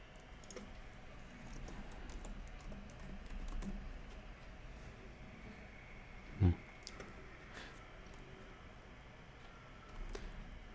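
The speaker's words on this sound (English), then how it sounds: "Only place where you can type in OBS and the keyboard don't lag." Faint, quick keystrokes on a computer keyboard tap out in scattered bursts, with one sharper, louder knock partway through, all quiet and close, with no talk.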